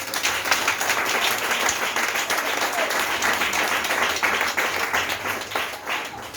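A church congregation applauds steadily at a Pentecost service, a dense, sustained wash of clapping hands from many people that holds at even loudness throughout.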